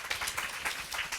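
Brief patter of audience clapping at a youth career talk concert in Korea, a short burst of soft, moderately distant applause.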